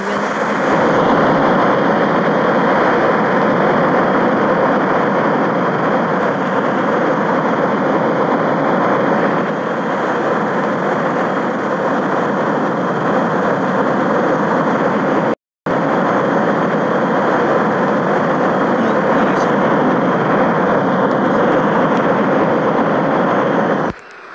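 A plane's engine drones steadily at high altitude in the Extreme Landings flight game, a loud, continuous low roar with broadband rush that barely changes, briefly cutting out once.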